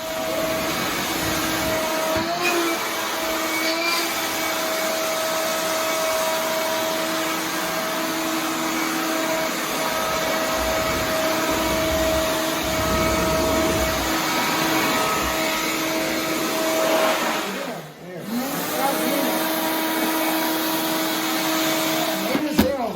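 A shop vac runs continuously with a loud, steady whine and roar, dipping briefly once when the airflow changes before resuming, while a person talks intermittently over it.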